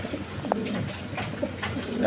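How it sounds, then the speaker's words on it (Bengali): A pair of big-sized Mundian pigeons at a pigeon seller's, cooing in low soft murmurs close by amid a busy background. "এইখানে এক পেয়ার কবুতর আছে, দেখেন আপনার মুন্ডিয়ান কবুতর"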